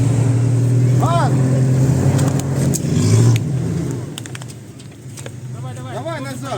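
A Lada Niva engine revs hard while driving off-road on an autumn rut track, a steady loud low drone that surges and eases, with people talking over it.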